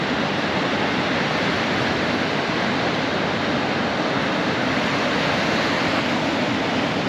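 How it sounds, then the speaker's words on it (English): Ocean surf rolls in steadily on the coast of central Portugal, with waves breaking continuously into a broad, even roar that stays loud and unbroken throughout, without any voices. "We've actually found some surf. Like proper surf."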